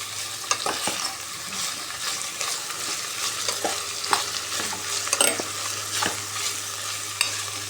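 Jackfruit pieces fry in a pan with a continuous close sizzle, broken by scraping stirs of a spoon every second or so.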